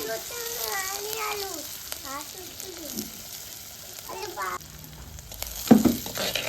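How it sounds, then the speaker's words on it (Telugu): Garlic, cumin and sesame seeds frying in oil give a soft, continuous sizzle beneath voices talking, ending in a sharper crackling burst. "వెల్లిగడ్డ జీలకర్ర ఇవన్నీ వేసుకుందాం ఇవి లాస్ట్కి అయితే నువ్వులు వేసుకుందాం ఇవి నూనెలో ఇట్లనే వేయించుకోవాలి"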